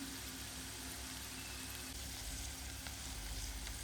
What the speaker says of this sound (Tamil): இதே மாதிரி பொரியட்டும்